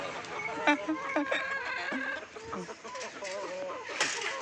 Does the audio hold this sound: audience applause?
no